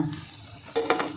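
Spinach pakoras crisping in hot oil, a short burst of frying crackle and stirring that rises near the end after a quieter start, close and fairly faint.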